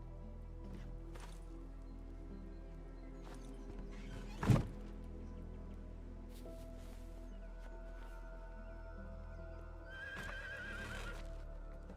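A horse in the medieval survival game Medieval Dynasty gives one brief neigh amid soft hoof and ambient game sounds, with a louder thump in the middle and a rising tone near the end.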